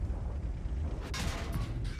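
A tank cannon shot in World of Tanks, from a Waffenträger against a Panzer IV: a deep booming blast rising to a louder burst midway, over low rumbling game ambience.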